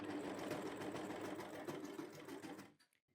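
An overlocker serger stitching through thick fabric layers: a fast, steady mechanical whirr with rapid ticking, close and even, running continuously and then cutting off abruptly to near silence at the end.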